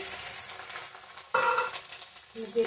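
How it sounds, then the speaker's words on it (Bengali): Lentils crackle and sizzle in hot oil, with a sudden louder burst of frying midway and faint stirring sounds. "ডালটা দিয়ে দিলাম"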